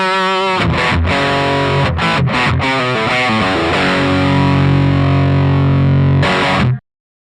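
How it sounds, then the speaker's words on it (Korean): Electric guitar runs through a TC Electronic Dark Matter distortion pedal, strumming loud crunchy chords with a few quick muted stops, then a long ringing sustained chord that cuts off abruptly, with no voices. "네 번째 추천은 TC 일렉트로닉의 다크메러 디스토션."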